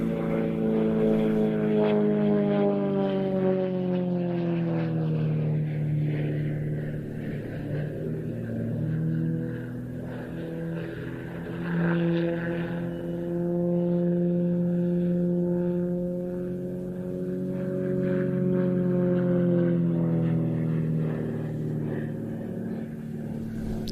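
Propeller aircraft of a display formation arriving at the Royal International Air Tattoo, a steady droning engine hum with slowly shifting pitch that swells and dips as the formation passes, loud and continuous throughout.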